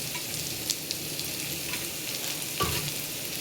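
Chopped onions sizzle and fry in a pan for pasta, a steady close crackle with occasional stirring scrapes and no talking.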